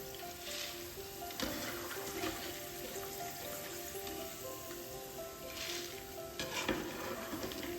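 Jackfruit pieces crackle and sizzle steadily in hot oil while being stirred, with scraping and splashing bursts over a continuous frying hiss, close and moderately loud.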